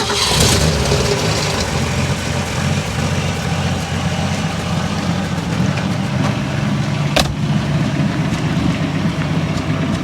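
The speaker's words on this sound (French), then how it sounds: "Tu sais nous la mettre en route, comme ça on entend un petit peu le bruit qu'elle ferait." A 1967 Ford Mustang V8 idles with a steady, low, fairly subdued rumble that holds even throughout, with no talking.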